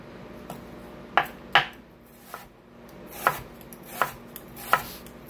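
A knife slicing an onion thinly on a cutting board gives six or seven crisp, sharp chops at an uneven, unhurried pace, close and clear against a quiet room.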